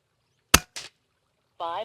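An Artemis P15 air rifle, loaded with a single shot loader, fires one sharp crack at a target, followed by a quicker lighter snap, then a voice speaks briefly.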